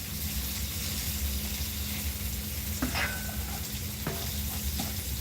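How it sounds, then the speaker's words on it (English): Food frying in olive oil with a bit of butter gives a steady close sizzle that fills the whole stretch, broken by a few brief scrapes and clicks of a utensil in the pan. "I put it in with a little olive oil and a little bit of butter to fry for a little bit"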